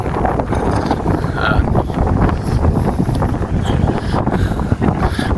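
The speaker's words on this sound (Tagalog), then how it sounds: "kahapon pa to ang lakas ng hangin eh" Strong wind in Japan buffets and roars steadily across the microphone, a dense continuous rush of noise with no clear pauses.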